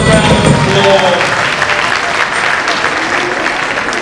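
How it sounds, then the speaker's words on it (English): A crowd claps steadily for several seconds, loud and dense applause that fades slightly toward the end. "give yourself a round of applause"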